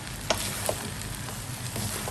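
Pad thai noodles and egg being stir-fried in a pan, a steady close sizzle with a few sharp scrape-like clicks from stirring.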